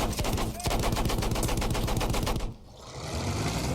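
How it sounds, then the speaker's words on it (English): A machine gun fires in the video game Battlefield 1, a loud rapid burst of shots that runs for about two and a half seconds and then stops, leaving rumbling battlefield noise behind. "Fire up my machine gun."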